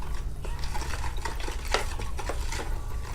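Compost tea being stirred in a container, heard as close, repeated swishing and light scraping strokes with faint clinks, steady and moderately loud with no voice.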